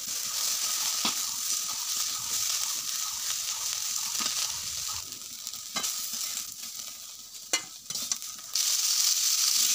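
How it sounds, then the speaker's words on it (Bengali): Soybean chunks fry in hot oil with salt and turmeric, a steady loud sizzle with occasional stirring scrapes and pops, and no talking. "এখন আমি সয়াবিনটা এই তেলের মধ্যে ভেজে নেব।"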